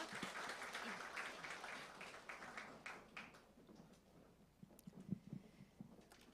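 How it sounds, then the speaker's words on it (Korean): Audience applause at a university foundation anniversary ceremony during an award presentation, a fairly faint, dense clapping that thins out over several seconds with a few louder isolated claps near the end. "여러분 큰 박수 부탁드립니다."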